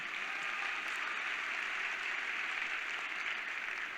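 An audience at a Forever Living success day event in Delhi claps steadily, a uniform wash of applause that stays even throughout without any clear voices.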